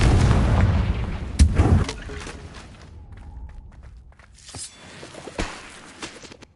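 Fire-spell explosions from the Confringo spell in Hogwarts Legacy go off as loud booming blasts, two heavy hits close together early on, then quieter magical effects, footsteps and another sharp impact later.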